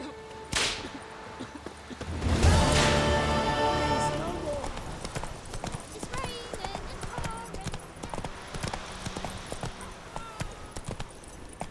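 Roach the horse in The Witcher 3 clip-clops along in a steady run of hoofbeats, after an early loud burst like a whinny or crack, with a voice speaking at times.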